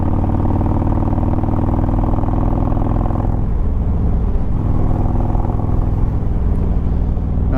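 Harley-Davidson motorcycle engine in anarchy ride mode, a loud close rumbling idle with a throaty rev swell, dipping briefly in the middle before resuming its steady pulsing beat, no speech.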